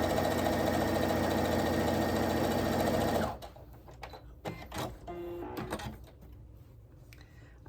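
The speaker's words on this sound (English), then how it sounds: "I'm going to sew it down." A sewing machine stitches a strip of plaid shirt fabric down onto a quilt, running loud and steady for about three seconds before stopping, followed by faint handling clicks and rustles.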